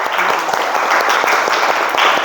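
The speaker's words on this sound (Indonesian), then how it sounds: "Beri tepuk tangan untuk sekalian semua" A classroom full of students claps for every group, a dense, loud and steady burst of applause that fills the whole moment.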